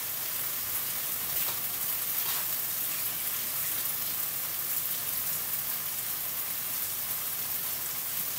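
Water drains from soaked mung beans in a home kitchen, a steady broad hiss like rain or running water that holds at an even level throughout.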